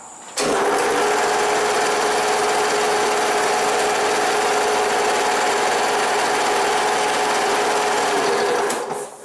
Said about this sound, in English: But now, this motor seems to do alright on this compressor.